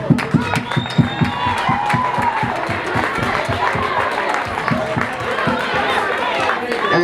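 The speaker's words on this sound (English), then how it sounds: "Maybe a round of applause" School party audience clapping at ETESAAM school, a room of people applauding with rapid, steady claps mixed with crowd chatter and some cheering, fairly close and sustained.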